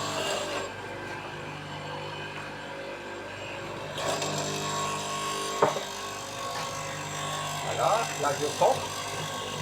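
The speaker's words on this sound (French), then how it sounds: "C'est un bédane avec une mèche à l'intérieur." A hollow chisel mortiser with a drill bit inside the square chisel runs with a steady motor hum, then bites into wood with louder grinding bursts toward the end, while someone speaks briefly in French.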